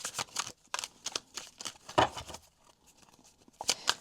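Tarot cards being shuffled by hand, a run of crisp riffling bursts and soft slaps repeating closely in a quiet room, with no talking.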